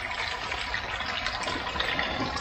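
Water flowing steadily into an aquaponics grow bed filled with round clay marbles, a continuous close trickling and splashing wash with no speech.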